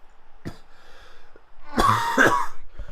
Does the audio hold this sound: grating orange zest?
no